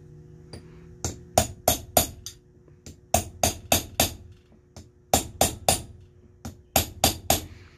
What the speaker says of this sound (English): gonna knock it with this punch.